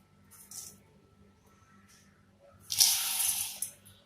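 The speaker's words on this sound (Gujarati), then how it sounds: "હવે આપણે આ દાળને મચેડી મચેડીને બરાબર ધોઈ નાખીશું" Toor dal is rinsed under a running tap, with a few faint splashes first and then a loud rush of water into the bowl for about a second.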